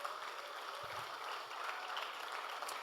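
Soft, distant applause from a tech conference audience during a panel session on engineering, a faint, even patter of clapping lasting a few seconds.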